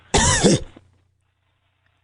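A single short cough or throat-clearing burst, close and fairly loud, lasting about half a second, followed by near silence.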